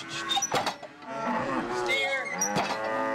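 Cattle moo on a farm as cowboys ready heifers for transport: a couple of long, close, drawn-out lowing calls, with short knocks and clatter between them.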